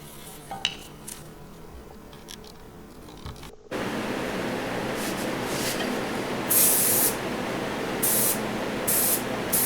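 An aerosol spray can hisses loudly and continuously as red paint goes on as a first coat on a 1969 Pontiac GTO Judge model car, after a few faint handling clicks, with short sharper bursts near the end.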